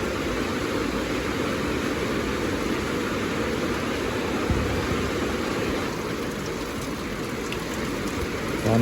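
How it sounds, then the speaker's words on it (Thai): Heavy rain pours down in a dense, steady hiss that runs unbroken throughout, loud and close with a faint engine-like hum beneath it. "ฝนตกอย่างหนักเลยพี่น้องเลย"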